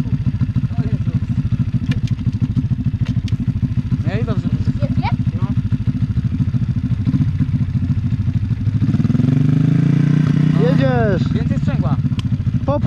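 A small Ogar motorbike engine putters with a rapid, steady idle, then revs up louder as the clutch and throttle are worked, while people shout nearby over the engine.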